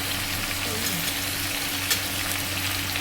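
Spices and turmeric powder go into a pot of boiled chickpeas for a vegetarian chana, giving a dense, steady sizzle with a faint low hum beneath and one brief clink, close and without talk.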